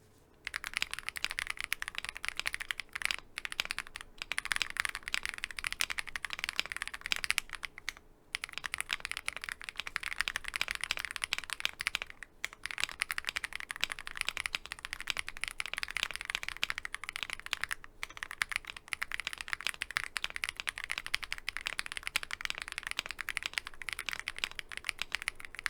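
Steady, fast clacking of a YUNZII AL66 mechanical keyboard with Dracula R2 switches being typed on, close and continuous with only a few short pauses.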